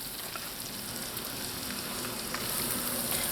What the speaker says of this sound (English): And you're going to saute these onions until it's tender.